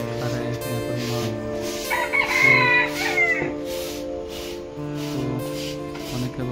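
Rooster crowing with chickens clucking in a village yard at morning, the crow rising mid-clip over steady broadband background noise and a looping tonal drone.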